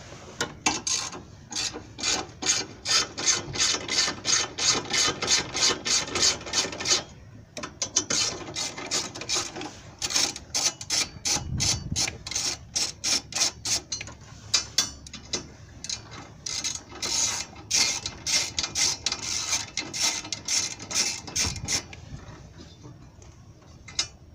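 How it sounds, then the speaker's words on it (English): A ratchet wrench backs out bolts on a 1999–2000 Suzuki Grand Vitara 2.5L engine during a timing and water pump teardown. Bursts of fast, close metallic clicking repeat with short pauses, and no one speaks. "And I'm doing the same thing on the other side here. Just removing the 3 bolts."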